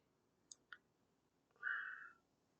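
Two quick, faint computer mouse clicks sound about a fifth of a second apart, followed by a brief brighter rustle or slide, with no talking.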